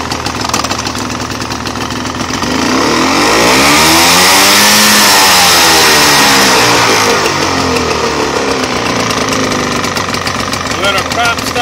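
A Johnson 48 SPL outboard motor on an Eldocraft boat runs steadily, rising to a loud rev in the middle and then easing back to a steady drone.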